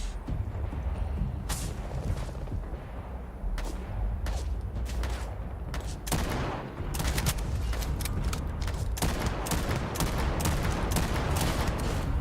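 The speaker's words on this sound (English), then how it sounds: "Dodging these bullets" Bursts of gunfire tear through a firefight in the video game Starfield, sharp repeated shots and rapid volleys coming in uneven clusters over background game ambience for about twelve seconds.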